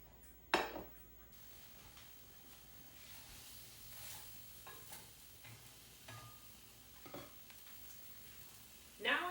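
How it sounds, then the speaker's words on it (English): A tuna steak sears in a pan over medium-high heat, giving a faint, steady sizzle with a few sharp clinks of utensils against the pan near the start and end. "Now I am searing the tuna."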